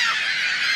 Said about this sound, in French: Oh my God, it's a mouette!